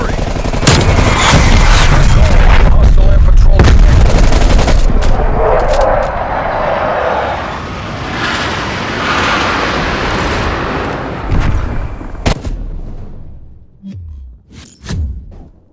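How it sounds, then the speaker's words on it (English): Incoming artillery in a video game pounds down in a dense, loud barrage of booming blasts and rapid gunfire, then thins into scattered sharp explosions and fading rumbles near the end. "Artillery targeting detected. Net call. Incoming artillery."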